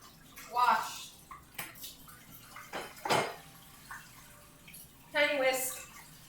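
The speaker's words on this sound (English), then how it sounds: "I'm washing all the tiny utensils" Tiny kitchen utensils, a little bowl and a miniature whisk, being washed in running water, with splashing and light clinks in short bursts while a person talks over it.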